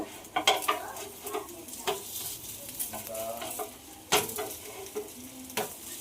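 Atta flatbread mixed with grated raw mango frying in a pan, a soft steady sizzle broken by sharp scraping and clattering as it is turned, no one speaking.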